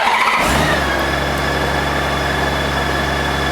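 Honda Gold Wing motorcycle engine starting up and then running steadily, loud and close, with a constant droning tone and no talking.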